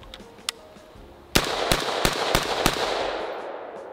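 Rifle shots fired through a flash hider crack sharply outdoors: a faint pop early, then five loud reports in fairly quick succession, each leaving a lingering echo.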